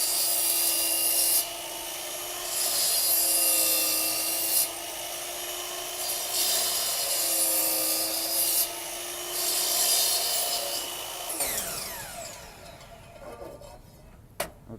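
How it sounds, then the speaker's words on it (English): A double-bevel sliding compound miter saw cuts a thick piece of wood in several passes. The motor whines in four loud, steady bursts with short gaps between them, then winds down at the end with a final clunk. "Now you're going to notice me taking several passes to make my way through this thick piece so that we're not pushing the saw too hard"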